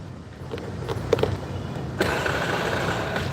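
A scooter on a street in Da Nang, Vietnam starts with a brief cranking rattle, then catches and settles into a steady idle hum, close by.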